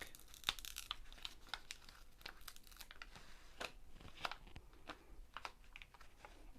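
A protective plastic cover is peeled back from a diamond painting canvas, giving quiet crinkling and tearing crackles in a continuous close-up run with no talk.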